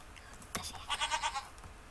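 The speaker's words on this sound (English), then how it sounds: "Oh my god, I see a goat!" A goat in the Minecraft video game gives a quick series of nasal, wavering bleats, loud and close, following a sharp onset, with no voices over it.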